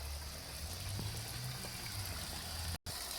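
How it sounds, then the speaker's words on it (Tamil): Water flows in a steady, faint rush on a home garden plot with lemon trees, continuous and unbroken, with no voices. "தண்ணி போயிட்டு இருக்குது."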